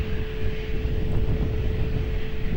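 An airliner landing on runway 20 at Lisbon Airport gives a steady, loud engine roar with a sustained tonal whine, constant and fairly near with no voices.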